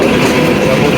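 A diesel train engine's cooling fan runs at Kaunia station, giving a loud, steady rushing whir with a low mechanical rumble beneath it, heard up close for about a second.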